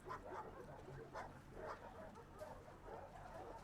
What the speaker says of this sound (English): I love playing with the dogs